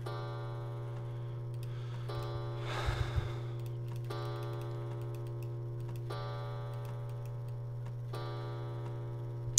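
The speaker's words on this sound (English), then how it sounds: "Oh, that's the clock." Clock ticking in a free thief video game, with steady regular ticks over a constant low hum and layered tonal drones, plus one brief rustling burst near the start.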